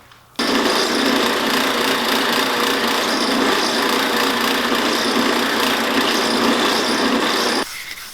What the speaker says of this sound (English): I'm going to drill some holes in here so that I can run some bolts through onto my table